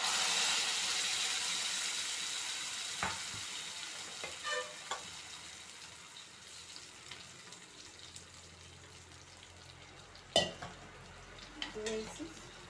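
Food frying in a pan on a home stove, a soft steady sizzle that fades over time, broken by a few scrapes and clinks of stirring.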